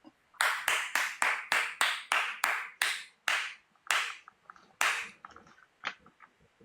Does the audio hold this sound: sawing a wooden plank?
no